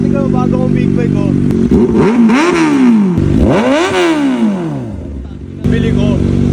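A 4000cc superbike engine revs hard twice in long sweeping climbs and falls, then settles back to a loud close idle, with a voice speaking over the running engine.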